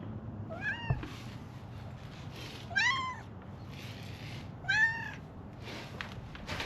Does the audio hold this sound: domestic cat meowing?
yes